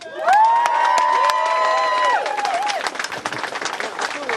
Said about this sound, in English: every single one of them deserves a round of applause.